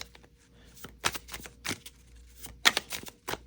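A tarot card deck is shuffled by hand, giving faint, quiet riffling clicks and soft flutters in irregular bursts, with no talking.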